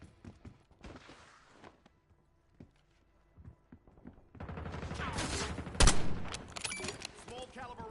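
Small-caliber gunfire in Warzone's Verdansk starts as scattered distant pops and clicks, then swells into a dense, close rattle of rapid shots with one especially sharp crack.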